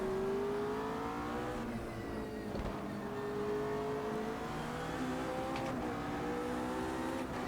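A GT3 race car circles Imola in the sim racing game Automobilista 2, its engine droning steadily as the pitch rises and falls through gear changes, loud and continuous with no talking.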